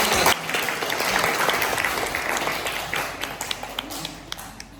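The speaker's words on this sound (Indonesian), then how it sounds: "Tepuk tangan" Classroom applause during a teaching practice lesson, a dense burst of many hands clapping loudly at first, then thinning into scattered claps toward the end.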